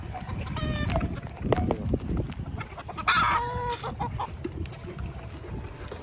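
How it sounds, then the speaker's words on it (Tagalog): Chickens cluck in a lively backyard flock close by as they are fed, with a rooster's crow breaking through midway and faint voices in the background. "pinapakain na ni tatay yung mga manok niya"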